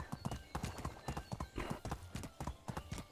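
Horse hooves clip-clop in a brisk, even rhythm in Medieval Dynasty, close and clear with a faint tonal game backdrop.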